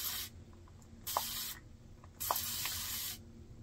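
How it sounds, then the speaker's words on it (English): Three bursts of a fine continuous water mister for hair, each a long breathy hiss lasting about half a second to a second, separated by short pauses, close and clear. "it's a very long spray"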